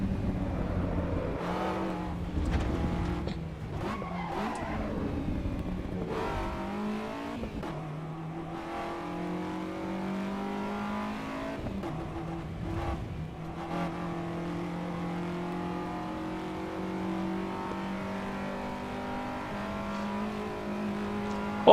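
Race car engine in the AC Evo racing game revving and accelerating through its five gears, a steady rising harmonic drone that climbs and shifts repeatedly with faint tire noise, continuous and close throughout.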